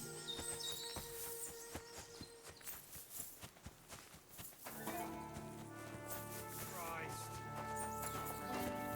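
Horses in the medieval game Kingdom Come Deliverance 2 clip-clop in a quick walking rhythm with birdsong behind, then the hoofbeats fade as voices and ambient game sound take over.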